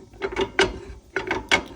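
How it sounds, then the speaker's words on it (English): A socket ratchet turns a trailer wheel hub nut on a Keystone Coleman 13B camper, giving two quick groups of three close, crisp metallic clicks. "So you got to take your socket or your pliers, whatever you got, and just keep turning it."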